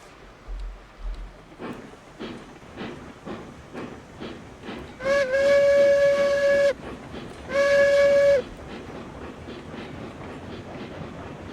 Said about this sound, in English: That is a proper looking train, so that's cool. Moving its way out. Under power.